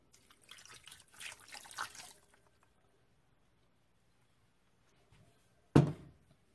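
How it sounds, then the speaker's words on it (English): Water is poured into a Ninja Foodi pressure cooker for BBQ chicken, a short soft trickle and splash followed later by a single brief louder splash, otherwise quiet. "we're going to add half a cup of water"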